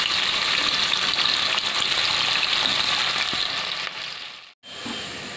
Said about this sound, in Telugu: ఇప్పుడు మనం ఉల్లిపాయలు వేసుకొని ఫ్రై చేసుకోవాలి.